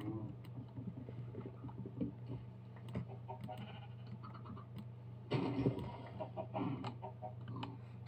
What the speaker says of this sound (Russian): Что, целых две курицы сразу?